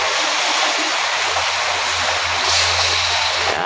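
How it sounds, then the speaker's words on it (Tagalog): Water is poured into a cooking pot for sopas during a storm, a loud, continuous rushing gush close to the microphone over a low steady hum, with no speech heard. "Okay idol, lalagyan natin tubig."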